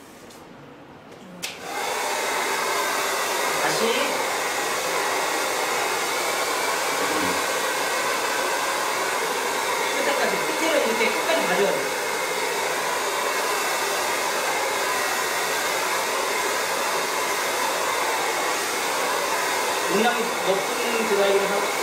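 A hair dryer blows during a bob haircut, switching on after a brief quiet moment and then running as a steady, close, loud whooshing hum, with faint handling noises and no talking.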